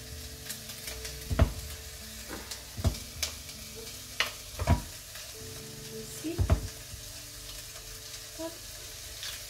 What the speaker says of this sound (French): Maintenant, nous allons ajouter